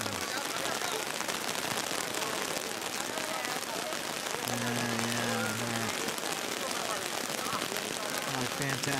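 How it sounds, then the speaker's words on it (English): Steady broadband hiss of heavy rain pouring down at a mountain camp, continuous and dense throughout, with a brief low hum partway through. "Pouring down rain."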